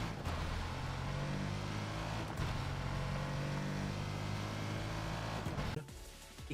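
A car body's engine in Fortnite revs loudly and steadily with a dense, droning roar, dropping off and thinning out near the end.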